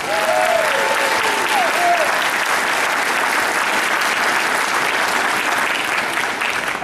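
Loud, sustained applause from a crowd, steady clapping throughout with a few faint whistles near the start.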